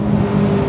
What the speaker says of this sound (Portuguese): Oh, o carro berra, pessoal!